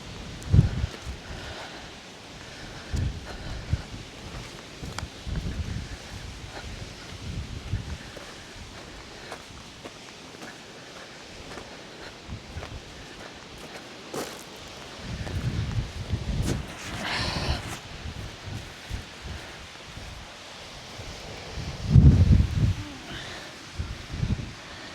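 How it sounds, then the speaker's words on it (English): Strong wind gusting on a remote exposed hilltop walk on a bright day, a steady rushing roar buffeting the microphone with louder surges and some rustling, no voices. "Beautiful day, but the wind, blow your head off."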